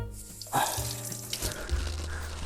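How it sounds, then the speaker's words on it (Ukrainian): A kitchen knife is rinsed under a cold running tap, giving steady splashing water with a few clinks and bumps from handling, close and moderately loud, with no talking. "ніж помили холодною водою"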